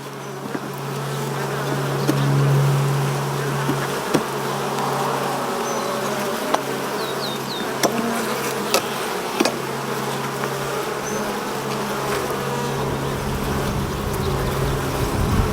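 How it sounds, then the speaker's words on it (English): Africanized honey bees swarm around an open hive, a loud, dense, continuous buzzing drone with individual bees zipping past close by throughout, and no speech. "I'm seeing a whole lot of bees"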